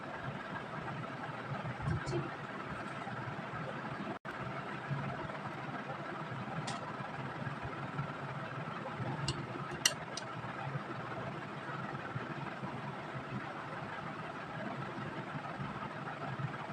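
A sewing machine runs steadily, stitching a neck strip onto a baby girl's top, with a continuous motor whir at close range for the whole stretch.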